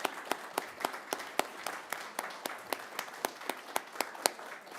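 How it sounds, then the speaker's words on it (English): Applause for the Radford City Police at a city council meeting, a small group clapping with distinct, fairly regular hand claps standing out over a soft spread of clapping. "Can we have a round of applause for our Radford City Police?"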